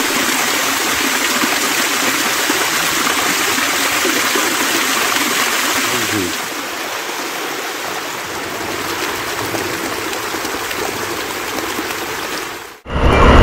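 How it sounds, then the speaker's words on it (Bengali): Continuous rushing of hill-stream water pouring down the Shoilopropat waterfall in Bandarban, loud and close, easing slightly midway before a brief abrupt cut near the end. "পাহাড় থেকে ঝিরির পানি এই শৈলপ্রপাত দিয়ে নিচে প্রবাহিত হচ্ছে।"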